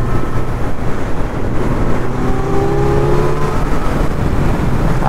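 A superbike ridden on a road at night, its engine droning loud and steady with a constant rumble and slowly rising pitch as it holds speed, with continuous wind noise and no talk.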